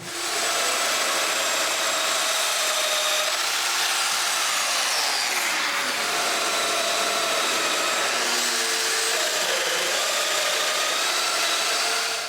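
A loud, steady power-tool whine runs continuously, its pitch dipping and rising as it drills mortises into cedar, close and unbroken for the whole stretch.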